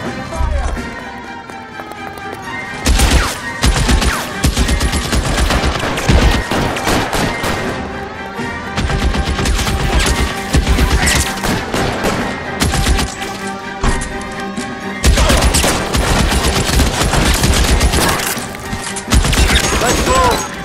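Rapid gunfire during a shootout in L.A. Noire, dense bursts of shots and heavy impacts over loud game music and scattered shouting voices.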